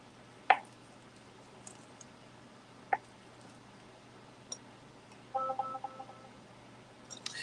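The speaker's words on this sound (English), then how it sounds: "alarm in the kitchen. The battery needs to be changed." A kitchen alarm chirps on a low battery in a quiet home kitchen: a few sharp, isolated beeps spaced seconds apart, then a brief cluster of rapid tones near the end, faint against a low background hum.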